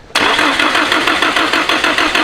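A Nissan S15 Silvia with a VVL engine cranks briefly, then catches and roars into a loud, steady run with a slight rhythmic pulse, close by and with no voices.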